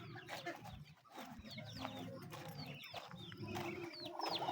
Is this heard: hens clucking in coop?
yes